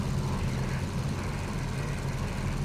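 A small airplane engine drones at full throttle during low flight over Alaska, a continuous, steady, moderately loud hum with no clear speech.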